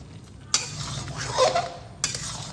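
Raw mango pickle being stirred with sugar and spices in a metal pot, with soft scraping and mixing under a couple of sharp clinks of a spoon against the vessel.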